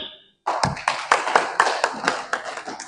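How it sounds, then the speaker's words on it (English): An audience at a health performance review gathering in a hotel hall breaks into clapping after a brief silence, a fairly close, loose burst of hand claps with distinct individual slaps throughout. "So let's clap for them"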